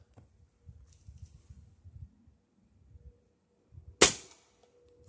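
A Gamo Whisper Fusion Mach 1 .22 air rifle fires a single sharp, loud shot at a target about 93 yards away, preceded by quiet rustling and handling noise.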